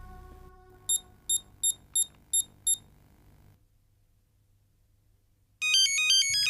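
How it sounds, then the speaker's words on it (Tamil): A mobile phone ringtone plays indoors: six short, bright electronic beeps in a steady rhythm, a brief quiet gap, then a louder trilling melody at the end, with no voices. "மொபைல் ரிங் போகுது"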